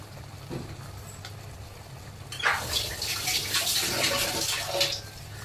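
Water pours and splashes steadily into a pot of boiling curry for a few seconds over a low background hum, starting suddenly and continuing at close range.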